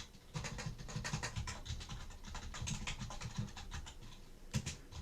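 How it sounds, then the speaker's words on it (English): Quick bursts of keystrokes on a computer keyboard as text is entered in CAD software, close and fairly quiet, with short pauses between runs of clacking. "I'm going to type Sierra College in all caps."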